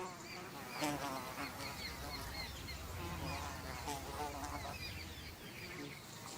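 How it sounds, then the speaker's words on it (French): Flies buzzing around a wounded lion as it rests in the wild, a steady insect hum with fluttering passes near and far, low rumbling wind underneath and no talk. "et des mouches le tourmentent"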